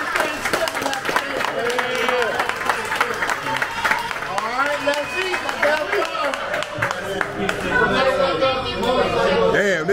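Audience clapping at a Thanksgiving gathering in a bar in Pattaya, Thailand, scattered applause mixed with crowd chatter and loud speech throughout.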